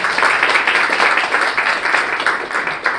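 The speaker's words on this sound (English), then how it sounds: "And a round of applause to our panelists." An audience applauds a panel at an NYU debate with steady, dense clapping at moderate volume throughout, with no voices over it.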